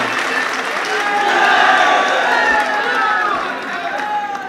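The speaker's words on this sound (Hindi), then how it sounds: "एक बार जोरदार तालियों से इस्तकबाल करिए" A crowd claps loudly and steadily with a dense, continuous patter, while a voice carries over the applause at a poetry recital event.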